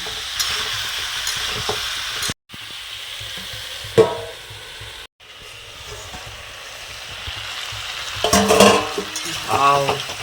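Masala frying in a covered pan gives a steady close sizzle, broken by two brief silent gaps and a few clanks of the lid or utensil, with louder stirring near the end.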